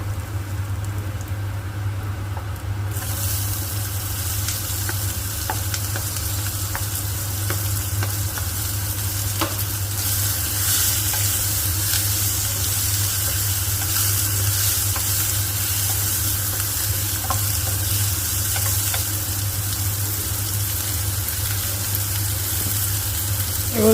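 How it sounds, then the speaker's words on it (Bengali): Onion, garlic, green chilli and tomato frying in a pan for a fish-head potato curry, a continuous dense sizzle with scraping stirs throughout and a low steady hum beneath, no talking. "তারপরে কাঁচা লঙ্কাগুলো দিয়ে ভালো করে নেড়ে নিয়ে অনেকক্ষণ ধরে কষে নিয়ে"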